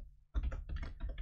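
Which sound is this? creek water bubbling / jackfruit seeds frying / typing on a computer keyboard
typing on a computer keyboard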